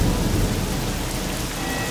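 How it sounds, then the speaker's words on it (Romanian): A heavy thunderstorm: dense, loud rain pours steadily while a low thunder rumble rolls beneath it for a couple of seconds. "Ce furtună puternică!"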